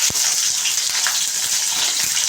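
Onion frying in hot oil with mustard and cumin seeds gives a loud, steady, close sizzle with faint crackles throughout.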